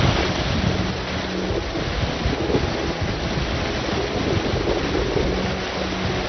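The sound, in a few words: flooded river water rushing after heavy rain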